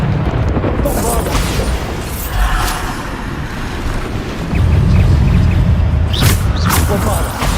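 Bombarda spell explosions in Hogwarts Legacy, loud booming blasts and rumbling bursts amid busy combat noise, with a deeper surge midway and sharp cracks near the end; a voice talks over it.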